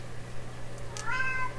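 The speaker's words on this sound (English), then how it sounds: "That's my cat I just let in." A house cat, just let in indoors, gives one brief rising meow near the end, faint against a steady low electrical hum.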